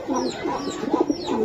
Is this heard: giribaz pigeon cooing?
yes